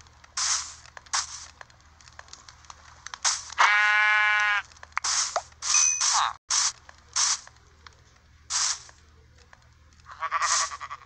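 Minecraft sheep bleating several times, with a long wavering bleat standing out among short game blips and clicks, no talking.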